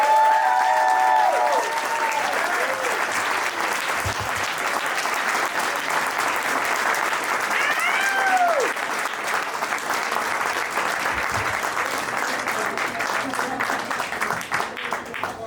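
A crowd at a campaign launch event for Howard County Executive applauds Jessica Feldmark, sustained loud clapping with cheers and whoops running throughout.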